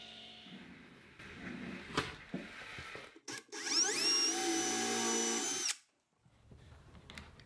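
A power drill bores and countersinks holes from the inside of a drawer in a planer cart storage cabinet. It starts with short clicks and handling knocks, then gives one loud, steady whine for about two seconds that cuts off sharply.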